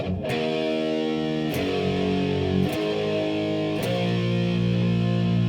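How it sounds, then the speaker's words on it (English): Thick, buzzing fuzz-drenched electric guitar chords through a Big Muff fuzz pedal strike four times, each ringing out heavily with a gritty, saturated, chainsaw-like sustain. "the Big Muff, which is just a classic fuzz pedal"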